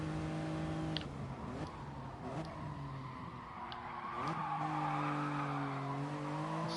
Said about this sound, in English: Skidding's not ideal in terms of losing time